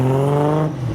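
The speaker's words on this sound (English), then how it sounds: "It's on, rev it." A big-turbo Volkswagen Mk4 Golf engine revs close by, a loud, strongly harmonic drone that holds steady and then drops in pitch as the throttle eases within a single second.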